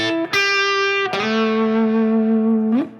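A D'Angelico Deluxe SS electric guitar plays a phrase with expressive techniques: a picked note, then a long sustained note that bends and slides before fading, slightly overdriven and close, with no voices.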